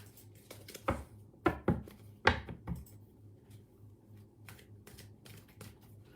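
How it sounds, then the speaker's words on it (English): Tarot cards are shuffled close by in a quick cluster of crisp riffling snaps and flutters during a live reading session, then a quiet soft rustle follows. "the cards are getting a really good shuffle tonight"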